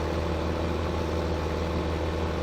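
A Massey Ferguson tractor engine idling in Farming Simulator 2015, a steady low droning rumble at an even level and close by, with no breaks and no talking.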